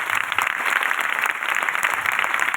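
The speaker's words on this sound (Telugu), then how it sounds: "ఒకసారి చప్పట్లు కొట్టండి. పూర్ణ బలంతో." A congregation at a church sermon clapping together, brisk, even applause that stays fairly loud and uniform for a couple of seconds.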